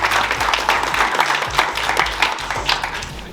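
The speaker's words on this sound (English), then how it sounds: "Let's give a big round of applause to Phil Evans" Audience applause welcoming the owner of Urban Body onto the stage at a sales and conversion workshop in Dublin, a steady dense wash of many hands clapping, fairly close and loud throughout with no talk over it.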